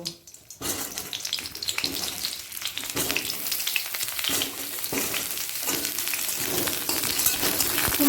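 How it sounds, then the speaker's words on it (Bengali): Cauliflower fries in mustard oil in a wok, a steady crackling sizzle with occasional stirring clatter, building slightly over several seconds with no talk. "প্রথমে এক কড়া সর্ষের তেল দিয়ে দিলাম দিয়ে ফুলকপিটাকে আগে একটু ভেজে নেব"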